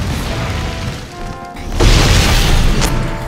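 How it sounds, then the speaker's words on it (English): A boss named Greybeard sets off a bomb in a video game, a loud booming blast that swells into a sustained roaring rumble after a brief lull, close and dominant with no talking. "He tried to use his bomb on me."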